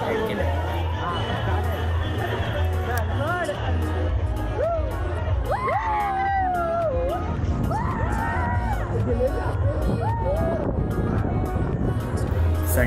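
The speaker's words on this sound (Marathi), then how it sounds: "संडे होता त्यामुळे गर्दी होती" A busy Sunday crowd fills a water park with slides, steady dense chatter and shouts plus excited whoops and screams, with occasional splashes and bangs throughout.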